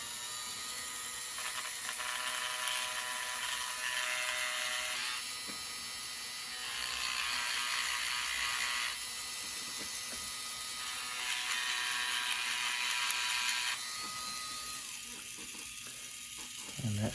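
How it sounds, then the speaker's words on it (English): A brass wire wheel spins against the wheel grooves of an older, non-running Bachmann E60CP model locomotive, giving three loud bursts of high, hissing, whirring grinding separated by quieter motor running, with no talk. "So just start that up there. Got a brass wire wheel."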